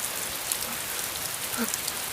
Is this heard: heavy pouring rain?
yes